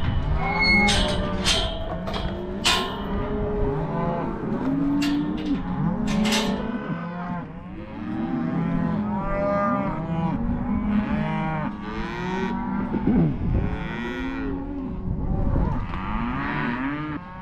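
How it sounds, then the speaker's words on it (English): Cattle mooing repeatedly in a farm alleyway, several overlapping low, drawn-out calls close by and loud, with scattered thumps of hooves or gates among them. "Cows are very interesting creatures"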